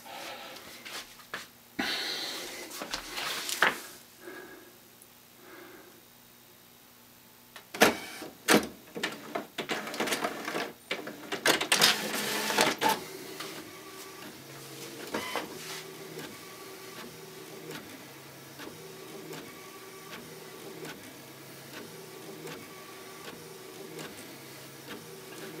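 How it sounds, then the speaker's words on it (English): An HP Officejet 4500 wireless printer feeds and prints a sheet of Avery labels, giving a steady mechanical whir with rhythmic clicks and carriage shuttling. Loud feed bursts come early, then a long run of even printing noise with no talk. "Okay, as you can see, it is printing at the very top."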